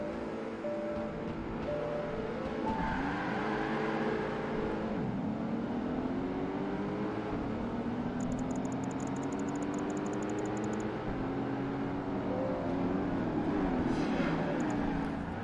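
Koenigsegg race cars battle on track in the racing game Project Gotham Racing 2, their engines rising and falling in pitch as they accelerate and shift, with overlapping revving throughout.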